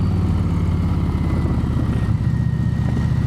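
Indian Chieftain Power Plus motorcycle engine running steadily, a deep, continuous low rumble close by with no change in pitch throughout.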